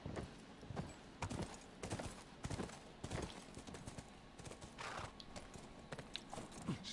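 Horse hooves clip-clop in a steady, close walking rhythm on hard ground in The Last of Us, with faint background ambience and no talk.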